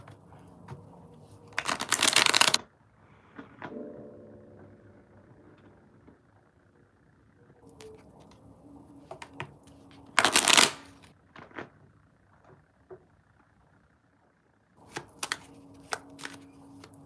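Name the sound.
tarot cards being shuffled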